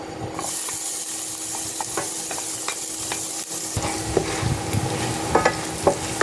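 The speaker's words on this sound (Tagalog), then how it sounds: "Tapos lagyan na tayo ng chopped garlic." Chopped garlic sizzles in hot cooking oil in a pan for an ampalaya and egg dish, a steady loud hiss broken by occasional scraping stirs, with no talking.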